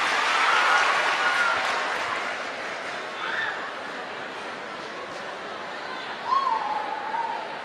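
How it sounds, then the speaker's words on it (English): Audience members at a motivational talk applaud briefly, a broad clatter of clapping that fades out, with a few whoops and faint voices scattered after it. "give yourselves a round of applause and take a seat"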